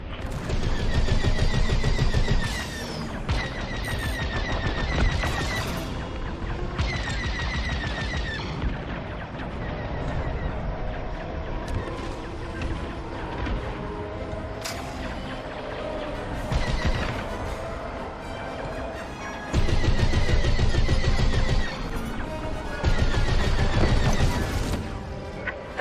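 Starfighter laser cannons fire in Star Wars: Squadrons, dense bursts of shots and crashing impacts over a continuous roar of battle, with louder surges near the start and end.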